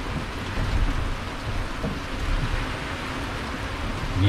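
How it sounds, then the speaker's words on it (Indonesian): Heavy tropical rain pours steadily during a fishing trip, a dense, loud, unbroken wash with low thunder rumbling beneath it and no talking. "Ya, ya, hujan pak."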